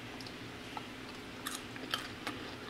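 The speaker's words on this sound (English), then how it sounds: "Mmm, that crunch." Hot, crunchy homemade breakfast potatoes are chewed close to the mic, with quiet, scattered crunches and soft bites over a low background hum.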